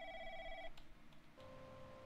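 A telephone rings in a video game, a steady electronic trill that cuts off and is followed by a quieter, lower-pitched ring, faint and alone with no talking.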